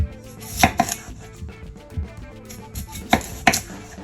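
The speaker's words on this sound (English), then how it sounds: "On to the potatoes. We're gonna cut these thick as well. Slice them like this." A knife chops potatoes into thick chunks on a cutting board, with sharp, close knocks that land in irregular clusters and leave short pauses between strokes.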